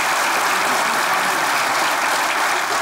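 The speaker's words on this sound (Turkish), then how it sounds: "Alkışlarınızla devam ediyoruz" Studio audience applause on a Turkish TV show, a dense, steady wash of clapping at even loudness with no talking.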